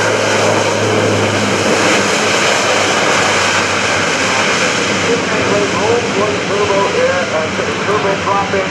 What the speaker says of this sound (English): Turbo prop engine